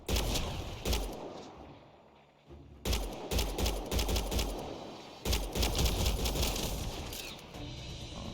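Rapid automatic gunfire from the sci-fi shooter Mass Effect Andromeda crackles in loud bursts, with dense volleys of shots separated by short pauses during combat.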